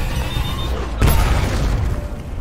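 A sudden deep bomb explosion in a film bursts out after a moment of low rumbling, then rolls on as a heavy, sustained roar.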